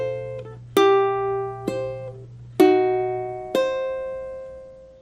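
Ukulele with its two middle strings plucked together by thumb and index finger, a phrase from a song: four bright, ringing double-note plucks spaced about a second apart, each sustaining and decaying, played alone and close.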